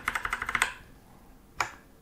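Crisp clicks from a Gamemax Strike RGB mechanical gaming keyboard, a quick run of about eight close keypresses followed by a pause and one more louder click, with no talking.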